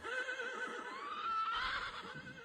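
Horses neighing and whinnying in shrill, drawn-out cries while two horses flee a farm at night, the calls rising and falling continuously and fairly loud against a steady background hum.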